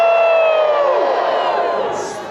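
A crowd at a Dickens holiday festival cheers on cue, a burst of loud whoops and shouts from adults and children that swells at once and then slowly fades.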